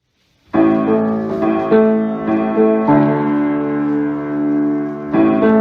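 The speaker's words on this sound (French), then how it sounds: "Trois, nous allons entendre le carillon." Carillon bells ring out for a Remembrance Day ceremony, loud resonant chimes struck one after another with long ringing tails that overlap and sustain.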